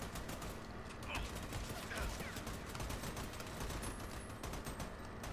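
Continuous gunfire from a soldier's weapon aimed at an enemy turret in the Army of Two video game, steady and dense throughout, with a busy battle mix underneath.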